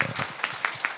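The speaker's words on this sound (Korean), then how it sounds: "박수로 한번 격려해 볼까요" A church congregation applauds the worship team and evangelism support department with a quick, lively burst of clapping.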